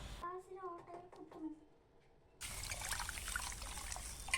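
Water is poured into horse gram in a pot for cooking, giving a steady, close splashing rush that begins partway through, after a stretch of talk.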